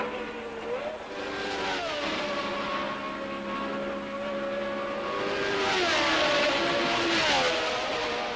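Formula One race cars at the 1979 Canadian Grand Prix scream past with high, rising and falling engine whines, loud and sustained, building again toward the end as more cars approach.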